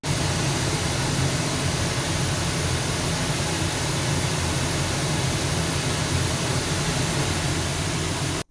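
Pink noise test signal played through an IKEA Symfonisk speaker paired with a subwoofer, a loud, continuous broadband hiss with a fuller low-end rumble, running unbroken until it cuts off at the end.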